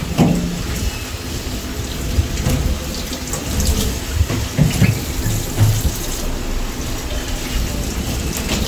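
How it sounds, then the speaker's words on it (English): Water runs from a kitchen tap during cooking, a steady close splashing hiss with scattered clinks and knocks of items being rinsed or handled in the sink, no talking. "Hear the sound of the water."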